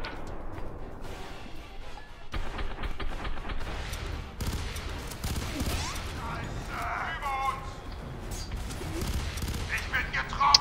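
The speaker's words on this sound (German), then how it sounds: "Der ist gerade überall explodiert." Bursts of gunfire and booming blasts crackle through a chaotic battle soundscape in the video game F.E.A.R. 3, with a voice talking over the noise.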